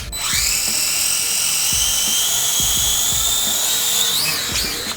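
A Propel Cloud Rider toy drone hovers close by with a loud, steady high-pitched rotor whine, holding pitch for several seconds before wavering near the end, with light thumps and handling knocks underneath.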